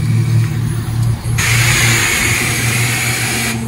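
A pressure wand at a five-bay self-service car wash sprays wash soap at about 1,000 PSI, a loud continuous hiss over a humming pump that jumps brighter partway through and holds steady.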